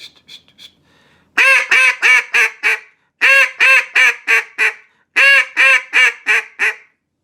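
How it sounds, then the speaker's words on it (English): Duck call blown in a hen mallard five-note cadence, loud close quacks in three separate descending runs of about five notes each, preceded by a few faint short notes, with no voices. "that is our 5-note cadence of a hen mallard"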